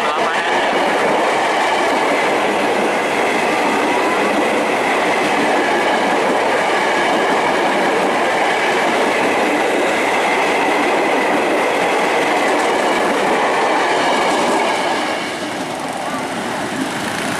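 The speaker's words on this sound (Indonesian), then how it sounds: "JR 205 persiapan masuk stasiun Rawabuaya." A JR 205 series commuter train heads for Tangerang past level crossing JPL 15 near Rawa Buaya station, its wheels roaring and clacking loudly and continuously at close range before easing slightly at the end.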